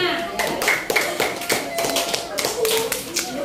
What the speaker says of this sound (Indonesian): Tepuk tangan ke kelompok 5